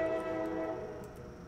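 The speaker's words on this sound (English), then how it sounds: "Okay, shut up, train." A steady, sustained train horn blares in a modded Minecraft world, a loud layered tone holding for about a second before easing off, with no talk over it.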